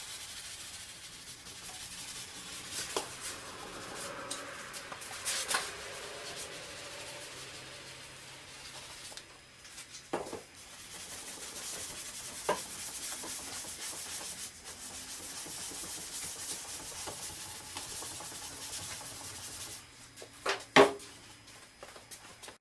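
Hand-sanding a door panel on a 2004 Honda Civic, a continuous soft scratchy rubbing with occasional louder scrapes and knocks, close and steady throughout.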